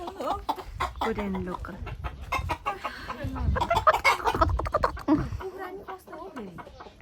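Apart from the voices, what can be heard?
chickens clucking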